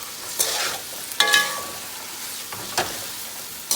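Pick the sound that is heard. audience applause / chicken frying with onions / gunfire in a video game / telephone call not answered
chicken frying with onions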